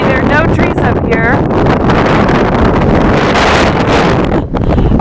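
Strong gusting wind roars across a microphone high on a bare Colorado mountain above the tree line, loud and buffeting throughout, with a voice briefly audible beneath the rush early on.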